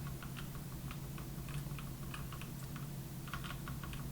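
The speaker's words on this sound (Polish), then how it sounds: "O Jezu, ile klikania." Rapid computer keyboard and mouse clicking while playing a farming game, steady bursts of keystrokes close to the microphone over a constant low hum, with no talking.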